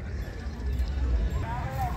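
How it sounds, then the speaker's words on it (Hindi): Mare's hooves clip-clopping at a crowded horse fair, a few soft thuds under loud nearby talk and a constant low crowd rumble. "यो भी घोड़ी है, बहुत बढ़िया जी, बहुत बढ़िया।"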